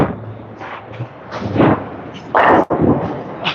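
A bowling ball crashes into the pins during league-style practice, leaving the 9-pin standing; a loud, close burst of pin action rises from low murmuring background noise, followed by a short rattle.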